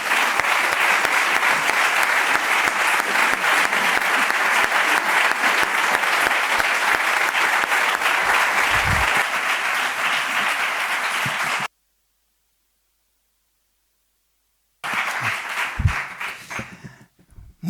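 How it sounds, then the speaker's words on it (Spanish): An audience at a lecture event applauds a guest speaker, a sustained, even roar of many hands clapping for about eleven seconds, then a gap of silence before the applause resumes briefly and fades. "un aplauso para José Antonio Ortega Lara"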